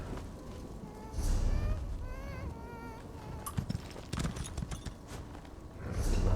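Horse hooves clop along while riding in the Elder Scrolls Online game, steady footfalls mixed with creaks, a short whinny-like tone and other game sounds, moderately loud and close.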